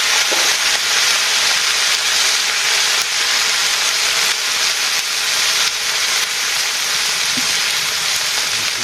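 Vegetables sizzle loudly and steadily in a pan of fried onions, a dense unbroken hiss with faint stirring scrapes and no voices.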